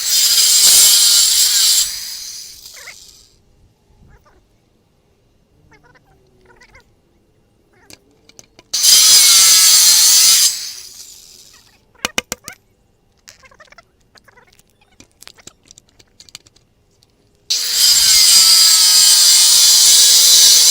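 A saw cuts through a wooden board while a new stair stringer is made from a template. Three loud, sustained bursts of rasping cutting are heard up close, separated by quiet gaps with faint taps and knocks.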